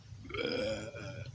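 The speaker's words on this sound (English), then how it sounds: "cover your mouth when you're burping, woman." A single drawn-out, throaty burp from the Sonic game character Tikal, close and clear, lasting about a second.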